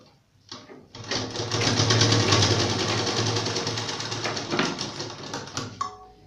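A sewing machine stitches elastic into the waistband of a women's trouser, running in one continuous fast whirring burst for several seconds after a brief start, close and steady with no talk.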